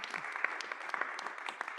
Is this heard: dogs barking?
no